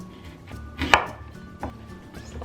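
Knife slicing pears into strips on a board for pork mince tacos, a few separate cuts with one sharp, louder chop near the middle, close and clear with no talking.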